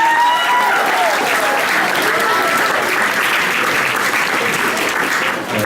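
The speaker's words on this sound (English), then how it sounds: "So please give a nice Athenian round of applause to John Oda." Loud, sustained applause from an audience at a mindfulness symposium greets a speaker, dense clapping filling the room with some cheering and crowd voices mixed in, fading slightly at the end.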